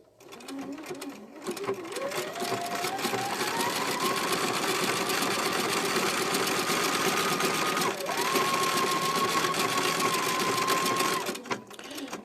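Sewing machine stitching machine applique runs at a steady fast whir, a continuous mechanical hum with a rising tone as it speeds up, briefly pausing once before resuming, loud and close throughout.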